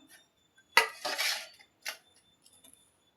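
Kanyakumari-style puttu pushed out of a steamer tube with a ladle, a close burst of metallic scraping and clinking that lasts about half a second, then a single short knock and a few faint taps.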